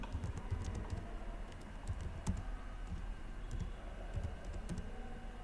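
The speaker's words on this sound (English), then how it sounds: "Here you can type your comment." Quiet, close typing on a computer keyboard, a steady patter of light key clicks with a few sharper taps, over faint background hum and no speech.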